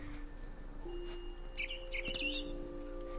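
Birds chirping in the video game What Remains of Edith Finch, a few quick high tweets over a steady low in-game ambient hum, faint and without talk.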